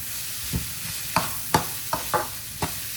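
Cumin seeds sizzle in chicken-flavoured oil, a steady soft hiss broken by half a dozen brief scrapes or stirs spaced about half a second apart.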